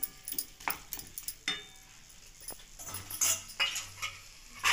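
A spoon stirs and scrapes potato-tomato masala roasting in a pan, making irregular close clinks and scrapes with soft sizzling between them.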